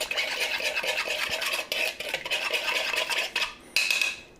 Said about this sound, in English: I'm gonna go ahead and mix that up.